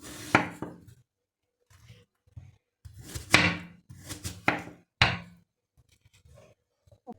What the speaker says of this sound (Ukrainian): Тепер їх будемо різати отак отакими пластинками.